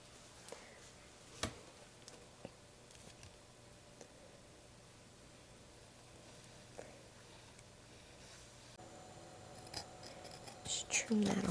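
Scissors snip along the edge of a paper time card pocket in a quiet craft setting, a few soft isolated cuts near the start giving way to a quicker run of close snipping at the end.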